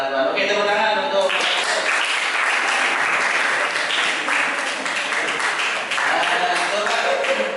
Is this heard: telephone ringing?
no